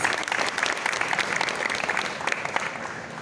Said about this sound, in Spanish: les pido un aplauso grande para los compañeros y las compañeras